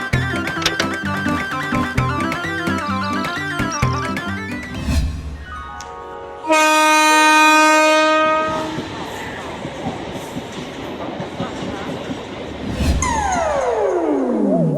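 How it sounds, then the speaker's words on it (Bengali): A cartoon train departs in a Bengali comedy cartoon, with a loud horn blast, chugging and clattering. Musical sound effects and a long falling whoosh follow as it pulls away. "যা, ট্রেনটা বেরিয়ে গেল।"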